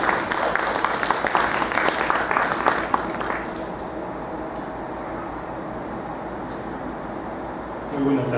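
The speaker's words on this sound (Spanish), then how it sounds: "Con un fuerte aplauso recibimos al doctor Hugo Montalvo" An audience at a medical association lecture claps to welcome a speaker, a burst of crowd applause over the first few seconds that fades into a quiet, humming room.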